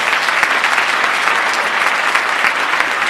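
A crowd at the Yonkers mayor's State of the City address applauds the Yonkers Fire Department, dense, even clapping sustained throughout with no break.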